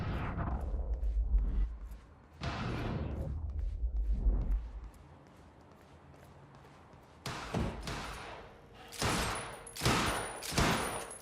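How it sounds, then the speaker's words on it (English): Bursts of rapid gunfire in the video game Quantum Break crackle in volleys, then a quieter pause before sharper, repeated shots ring out, loud and near. "I gotta check out that gunfire before I go anywhere else."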